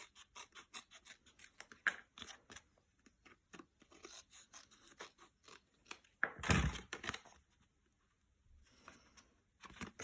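Scissors snip through card in a series of short, crisp cuts, close by, with a louder crunching rustle partway through.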